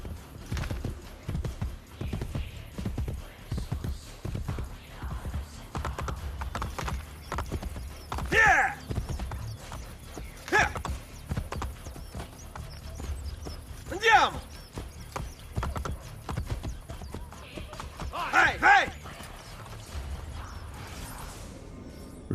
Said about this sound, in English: I've called the horse, but I've taken another horse.